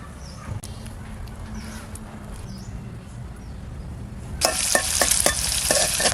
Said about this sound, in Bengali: ডিম ভাজা হয়ে গেছে এবার একে একে তুলবো